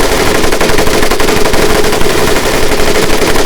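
An M1919A4 .30 caliber machine gun fires in a Pacific World War II shooter game, a loud, dense and continuous burst of rapid gunfire with no pause, and no talking.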